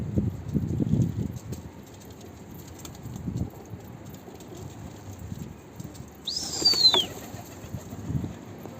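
A runaway pigeon is heard outdoors amid rustling and faint movement, with a short bird call partway through and light wing or leaf noise around it.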